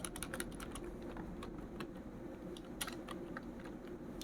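Typing code on a computer keyboard, rapid quiet clicking keystrokes in irregular bursts, close and faint over a low room hum.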